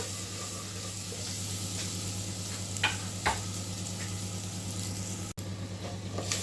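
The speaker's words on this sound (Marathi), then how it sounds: "आता मसाल्यांबरोबर आपण ह्या खेकड्याला व्यवस्थित मिक्स करून घेऊया." Crab being stirred with spices in a hot pan for a spicy crab curry, a steady sizzle with scraping and stirring noises close by and a couple of sharper knocks.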